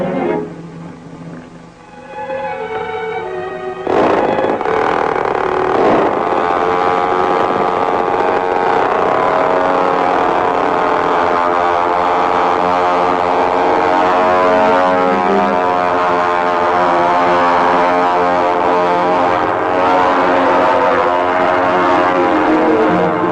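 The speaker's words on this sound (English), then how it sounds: "You may launch the plane." A propeller airplane's engine starts and builds into a loud, steady drone as the plane takes off in a 1946 serial, with the roar sustained and close throughout.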